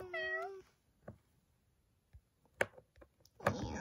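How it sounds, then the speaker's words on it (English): A cat gives one short, clear, rising and falling meow at the start, followed by scattered faint clicks and rustles, then a couple of louder bursts near the end. "Look at the kitty. Meow."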